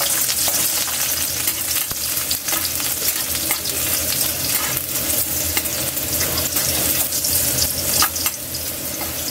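Garlic frying in hot cooking oil in a pan, a dense, steady sizzle with crackling pops throughout, close and loud with no talk.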